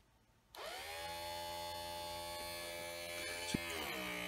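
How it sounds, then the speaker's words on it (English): Electric power window motor from a 1965-66 Ford Thunderbird whirs up abruptly and hums steadily, straining as it drives the window to its stop, with a faint click partway through. "That's where the motor stops."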